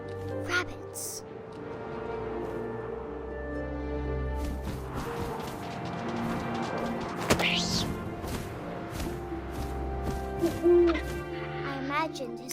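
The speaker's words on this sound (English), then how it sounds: "And suddenly, I was an owl." Owl hooting from the video game What Remains of Edith Finch, a soft tonal call rising over a steady bed of wind and music, with narration running alongside.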